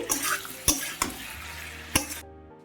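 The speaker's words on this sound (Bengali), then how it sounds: "এবার নাড়িয়ে চাড়িয়ে নেবো একটু।" Prawns and elephant foot yam stalks are stirred in a pan, a bright close sizzle punctuated by three sharp utensil knocks against the metal, then cut off suddenly near the end, with no talking.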